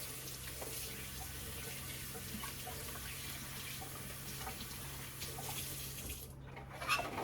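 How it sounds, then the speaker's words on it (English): Tap water runs steadily into a kitchen sink as hands are washed, a continuous close hiss and splash with a faint hum underneath and a brief change near the end. "I gotta wash my hands off now."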